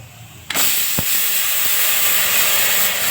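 Pressure cooker whistling as it vents steam while rice cooks, a sudden loud hiss bursting in after half a second and then holding steady and strong to the end.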